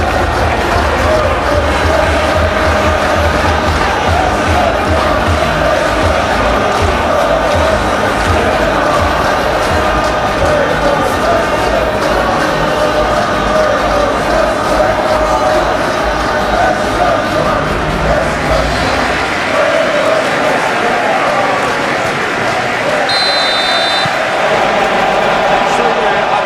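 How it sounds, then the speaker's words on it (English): Capacity stadium crowd roaring steadily before a Premier League match between Crystal Palace and Manchester City, a dense, loud wall of cheering and chanting with commentators talking over it. "Capacity crowd here."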